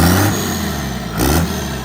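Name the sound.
Cummins diesel engine truck accelerating on test drive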